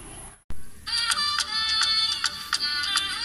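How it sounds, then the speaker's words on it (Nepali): A mobile phone ringtone for an incoming call in a Nepali comedy sketch: a bright, repeating melodic tone that starts after a brief silence and keeps ringing loudly and steadily with no talk over it. "फेरि फोन आयो यसको"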